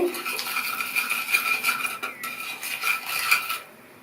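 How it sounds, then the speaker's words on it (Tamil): Pieces of rava tiffin turned in a spice mix of turmeric, chilli powder and salt in a pan, giving repeated close metallic scraping and light clinking strokes with a brief pause near the end. "இதில் ஒவ்வொன்றா இந்த மாதிரி எல்லா சைடும் படுற மாதிரி பிரட்டி எடுத்துக்கணும்"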